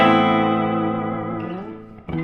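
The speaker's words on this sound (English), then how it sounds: "enough that you can hear the reverb, but not so much that it drowns everything" A sustained guitar chord through a reverb pedal rings out with a lush, reverberant tail that slowly decays, then a new strum sounds near the end.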